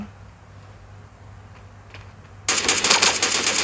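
Gunfire in the mobile battle game Sausage Man erupts suddenly as a loud, dense burst of rapid automatic shots, following a quieter stretch of low game hum.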